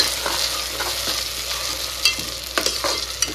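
Onion and ground tomato sauté in a pan for a Tamil-style dried fish curry. A steady sizzle fills the scene, broken by a few sharp scraping stirs, and no one speaks.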